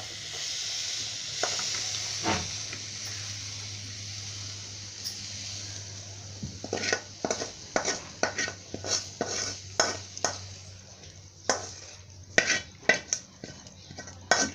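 Fenugreek leaf and moong dal curry is spooned from the pan into a serving bowl. After a quiet stretch with a soft hiss, a rapid series of sharp metal scrapes and clinks rings out close by.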